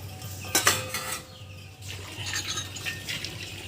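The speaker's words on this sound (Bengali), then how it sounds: "ঘি দিয়ে আমি একটু নাড়াচাড়া করে নেব সসপ্যানটা" Metal spoon clattering and scraping in a saucepan of ghee, two sharp clanks near the start, then softer scraping and a faint sizzle close by.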